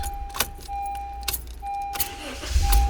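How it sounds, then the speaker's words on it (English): A 2012-2015 Honda Civic starting up close by: a bright chime rings repeatedly, keys jangle, and a low engine rumble builds toward the end, with no speech over it. "start the car"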